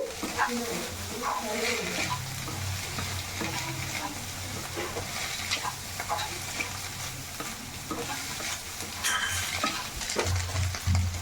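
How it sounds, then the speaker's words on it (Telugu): Egg bhurji frying in a pan while being stirred to keep it from burning, a close steady sizzle with scraping and stirring strokes, faint talk underneath. "సో మాడకుండా ఇలా తిప్పుతూ ఉండాలి."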